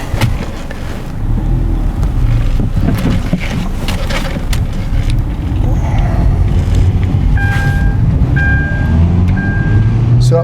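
A 2016 Kia Rio with a 1.6L engine and a low-power fault drives along, giving a loud, steady engine and road rumble heard from inside the car, with faint tones near the end.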